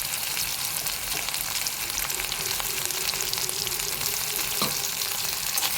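Onions sauté in hot oil in a pan with mustard seeds and green chili, a continuous close sizzle with faint stirring scrapes and taps.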